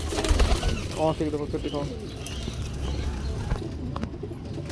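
Breeder pigeon, a male Teddy, cooing in soft repeated rolling notes close by, with someone talking over and between the calls in a loft setting.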